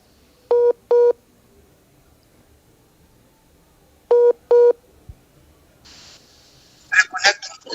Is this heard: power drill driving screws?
no